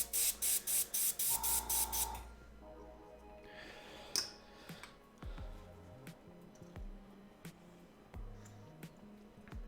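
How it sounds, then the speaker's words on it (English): Airbrush clear-out sprays during a miniature painting session on a dwarven hunter bust: a rapid run of about eight short, loud hissing bursts up front, followed by quieter clicks and handling noises. "why I need to do my clear out sprays on my hand or something off to the side"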